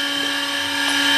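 A drill bores out a motorcycle crankcase during a Honda TMX155 conversion to 175cc, giving a steady, loud, high whine that holds without a break for the whole stretch.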